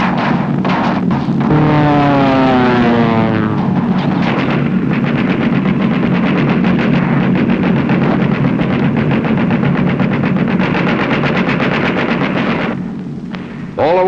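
B-17 bombers fly in tight formation, a loud, continuous droning roar of many piston engines with a slowly shifting, wavering pitch that fills the whole stretch, with no one speaking.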